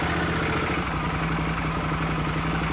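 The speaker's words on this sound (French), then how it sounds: "Si je démarre la moto" A motorcycle engine idles steadily and close by, a continuous low mechanical drone with light clatter and no clear start.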